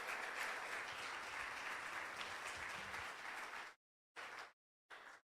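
A church congregation applauds, dense sustained clapping for several seconds that cuts off abruptly, followed by two brief bursts of the same sound separated by silence.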